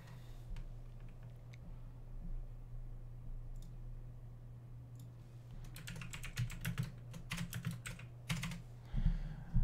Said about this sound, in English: Typing that stuff out.